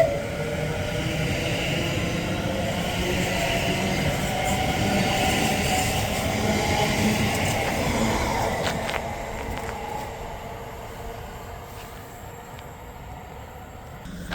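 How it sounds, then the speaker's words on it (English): Trains pull out of Berkhamsted station, the 14:30 to London Euston and the 14:26 to Tring, a steady rolling clatter of carriages with faint wheel squeal, fairly near, fading somewhat as they depart. "off goes the 14:30 to London Euston and the 14:26 to Tring"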